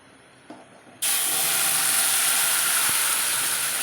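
A spoonful of mustard seeds drops into hot oil for tempering a chutney. After a soft clatter, it breaks into a loud, steady hissing sizzle that holds evenly, with a faint thud partway through.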